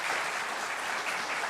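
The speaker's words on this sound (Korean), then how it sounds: "우리 박수로 환영하겠습니다." A church congregation at a Korean Sunday morning service applauds to welcome a guest, a brief, steady patter of clapping with nothing else heard.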